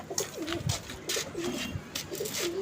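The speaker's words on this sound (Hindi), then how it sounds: "कबूतर मैंने उतार लिया है।" A pigeon kept at a pigeon club in Lahore coos softly in repeated low, throaty phrases, close by and quiet, with light rustling around it.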